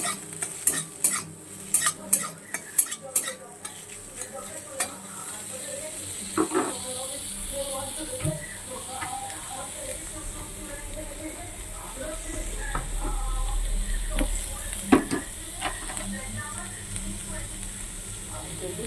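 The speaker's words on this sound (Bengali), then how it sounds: "একটু কড়াই তেলে নেড়ে চেড়ে নিচ্ছি।" A utensil scrapes and clinks repeatedly against a wok at first, then a steady sizzle of vegetables frying in oil builds with intermittent stirring knocks.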